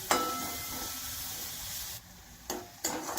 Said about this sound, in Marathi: कांदा तेलात लाल होईपर्यंत परतायचा चांगला